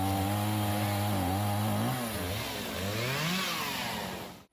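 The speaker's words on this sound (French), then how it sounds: "Dans la forêt d'Enchambert, on pouvait entendre s'affairer des tronçonneuses vendredi." Chainsaws working in the Enchenberg forest during a small-group forestry training day, a loud continuous engine drone whose pitch rises and falls as the blades bite into the trees, with no voices.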